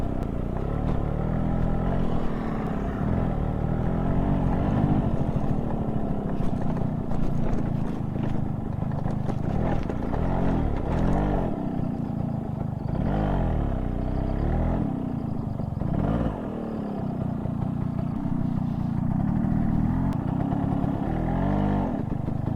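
A Yamaha RX 135 two-stroke motorcycle engine drones steadily and loudly throughout, with rising and falling revs as the bike works over a rough off-road path near Rachakonda Fort.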